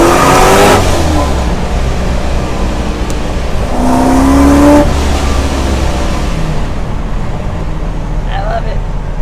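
A 900 hp supercharged Corvette accelerates hard with loud, rising engine sweeps and a surge around midway, then settles to a steady roar from inside the car.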